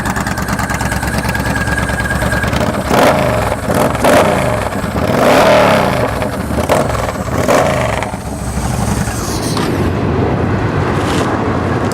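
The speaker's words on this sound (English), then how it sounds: "That Cobra exhaust system sounds really good." A Yamaha Stryker XVS1300 cruiser motorcycle fitted with a Cobra exhaust idles close by and is blipped several times, with rising revs and deep rumbling drops, before it settles back to a steady idle.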